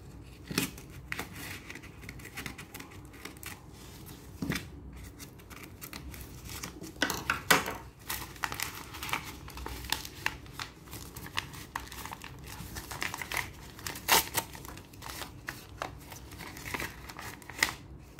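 An envelope holding a rare coin is cut open with scissors and crinkled, giving repeated close snips, rustles and paper crackles over a steady low background with no talk.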